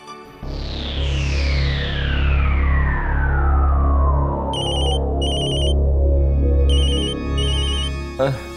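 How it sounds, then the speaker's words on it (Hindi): A phone's ringtone plays in a domestic scene, repeated bright electronic chirps in short bursts over a steady low hum, with a sweeping dramatic whoosh effect early on. "फोन आ रहा है"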